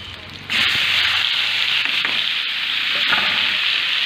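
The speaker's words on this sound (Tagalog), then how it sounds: "Bubuhos ko na lang po ang chili kamatis" Chili and tomato hit a hot pan with a sudden loud sizzle, then a steady frying hiss continues while a spoon scrapes and stirs through the mix, all close up with no talking.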